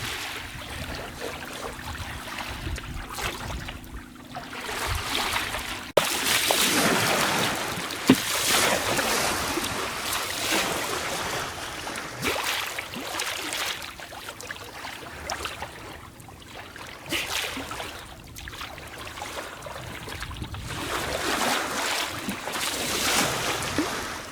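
A sailboat moves slowly along the coast in light wind, with a steady wash of water and waves against the hull and gusts of wind noise on the microphone; no voices are heard.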